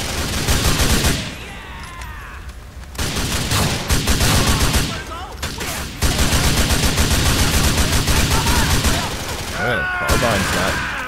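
Carbine gunfire in Grand Theft Auto IV, loud bursts of rapid shots crackling in dense volleys, broken by short pauses and a few deeper booms.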